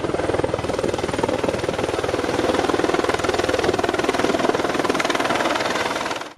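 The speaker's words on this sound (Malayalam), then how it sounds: "പ്രകമ്പനം കൊള്ളിച്ച ഒച്ചയോട് പൊടിപാറിച്ച് ഹെലികോപ്റ്റർ NR സിറ്റി മൈതാനത്ത് പറന്നിറങ്ങിയത്" A helicopter sets down on a village sports field in Idukki, its rotor chopping loud and close in a dense, rapid beat that holds steady throughout and cuts off sharply at the end.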